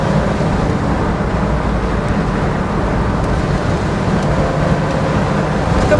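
Steady, loud cabin noise inside a 1970s Vauxhall Victor FE Estate cruising at 60 mph, a constant low engine and road rumble with wind hiss that holds evenly throughout, with no talking.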